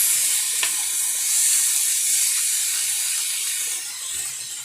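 Chicken pieces sizzle steadily in a pan with softened onions while being stirred, a constant bright hiss close up, with one sharp click of the utensil early on.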